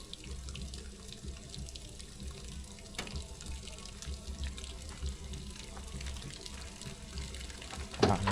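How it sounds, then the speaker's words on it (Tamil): Water runs steadily into an overhead tank, a constant rushing flow that holds at an even level throughout, with a brief louder splash near the end. "தண்ணி ஏறிக்கிட்டு தான் இருக்குது."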